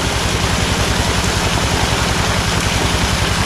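Water pours steadily into a tilapia fish pond, a dense, continuous rushing splash that stays close and loud throughout with no pauses.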